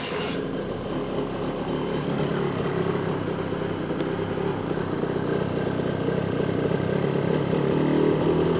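A two-stroke motorcycle engine running on premix in cool outdoor air with the choke likely on: a steady, loud, buzzy idle that holds continuously throughout with no breaks.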